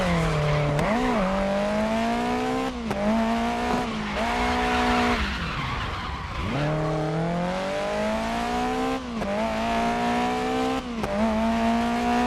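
Tires squeal through a handbrake slide in Grid Legends, a loud car engine droning and shifting pitch throughout, with sustained skidding screeches and brief lifts between gear changes, no talk.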